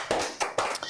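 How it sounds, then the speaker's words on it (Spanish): Church congregation clapping during a Sunday service, a few separate sharp hand claps in quick rhythm, fairly close and with no talk over them. "Puedes darle un aplauso al Señor"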